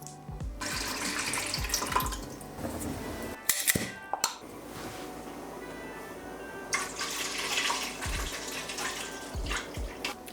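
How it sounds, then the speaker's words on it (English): Sheep's milk poured into a Ninja Foodi bowl, a soft continuous liquid splash and gurgle running for several seconds, then a clatter of handling and a second stretch of pouring, near and fairly quiet. "So I'll just pour my milk to the bowl."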